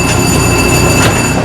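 A train runs past in the Trainz railway simulator game, producing a loud, continuous rolling rumble with faint high wheel-squeal tones over the whole stretch.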